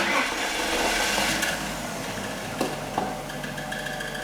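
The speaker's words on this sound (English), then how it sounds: "my first rebuilt engine ever, doesn't sound good" A freshly rebuilt BMW car engine idles with a rough, uneven running sound, a steady mechanical drone punctuated by a few sharp knocks and clatters.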